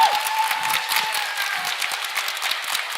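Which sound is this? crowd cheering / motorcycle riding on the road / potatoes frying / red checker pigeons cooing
crowd cheering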